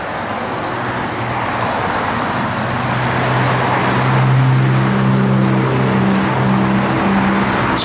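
A 1972 Chevrolet C10 pickup rolls down the road with a steady, loud engine drone heard from inside the cab, its low hum rising slightly midway as it holds speed, with no talking.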